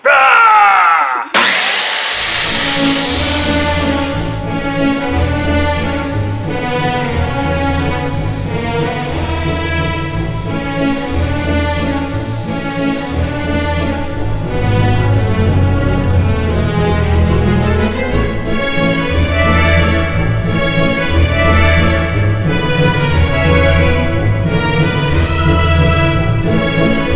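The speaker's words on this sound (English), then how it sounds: "Next, we're cutting this slab of wood that's gonna go here." A loud power saw grinds steadily through a wood slab for the whole stretch, a dense continuous whine with pulsing low rumble and no pauses.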